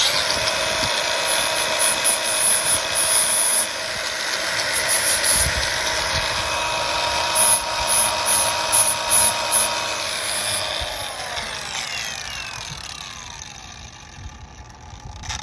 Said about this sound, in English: I've got this with a handheld flat disc